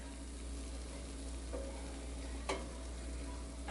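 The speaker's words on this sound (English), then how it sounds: "Oh, look, they're still sizzling." Faint, steady sizzling of BBQ chicken wings in a Ninja Foodi air fryer, with a low hum underneath and a couple of soft clinks, no talking.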